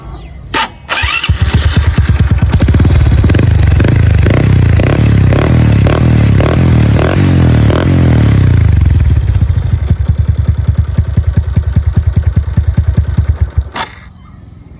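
A Honda Wave 125i motorcycle with an aftermarket M-Speed exhaust starts and revs hard over and over in a loud, rough, throaty burst, then cuts off abruptly near the end.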